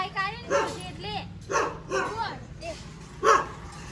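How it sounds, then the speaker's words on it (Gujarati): A dog in a village barks in several sharp bursts spread across a few seconds, fairly close, with people talking in between and around the barks. "એટલે કૂતરો છે ભાઈ"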